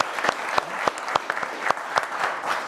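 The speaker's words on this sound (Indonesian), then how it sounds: "Tepuk tangannya boleh dong buat Pak Rahim" A studio audience claps on a televised talk show, a moderately loud, steady applause with sharp individual claps standing out in a regular rhythm.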